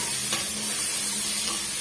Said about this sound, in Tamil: நம்ம சேர்த்திருக்கிற வெங்காயம் வந்து ஓரளவுக்கு வதங்கி வந்தா போதுங்க